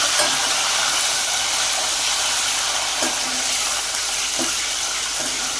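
Onion added to hot oil with fried peanuts in a kadai while making kadai paneer masala, giving a loud, steady, dense sizzle that holds evenly throughout, close and without talk.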